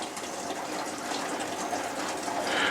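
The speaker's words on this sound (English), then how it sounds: "The water flows out of more than one place here." Spring water gushes out of rock at several points in a cave high on a mountain in Laos, a steady broadband rush of flowing water close by, with no voices.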